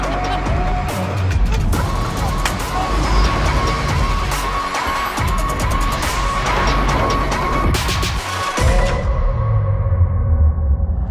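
A Mercedes-Benz Vision EQS concept electric car is driven, heard from inside as a loud, continuous road and motor rush with a faint tonal whine throughout.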